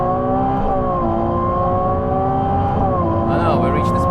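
A loud, close Ferrari 296 GTB engine drones under hard acceleration on the Nürburgring, holding a smooth tone, then dips and rises in pitch in a quick gear change late on.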